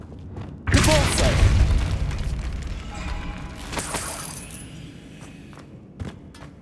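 A Depulso force spell cast in the Hogwarts Legacy video game bursts out with a loud whooshing boom, then a rumbling, crackling tail that fades over several seconds, with a sharp thud near the end.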